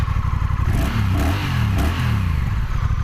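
Close, loud 2023 Honda CMX 1100 DCT motorcycle engine revving at the big black exhaust pipe, the pitch rising and falling in several quick throttle blips over a rumbling idle.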